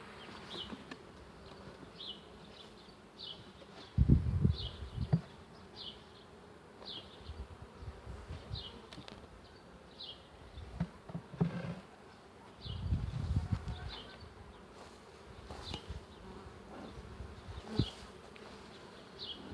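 Honey bees buzz steadily around a hive used for raising queens with the Nicot system. A soft, continuous drone runs throughout, with a few louder close passes and some rustling.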